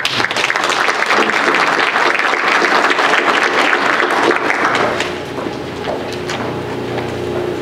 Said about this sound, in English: he earns a round of applause from everyone